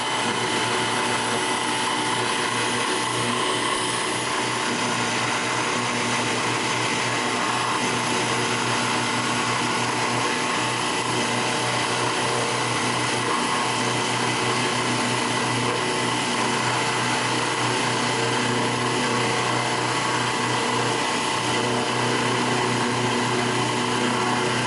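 A motorcycle engine part for a replica antique engine is machined on a rotary table, giving a loud, steady mechanical whir with faint grinding and ratcheting texture that runs unbroken throughout, no voices.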